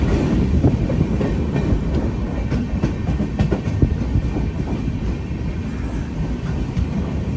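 An LHB passenger train of Konkan Railway runs at speed, loud and close, with a continuous rumbling roar and rhythmic clickety-clack of wheels over rail joints, no voices.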